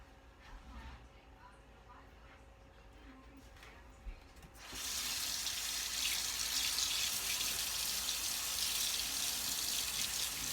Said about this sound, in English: I'm rinsing my spatula off so that I can spread it on top of the pies.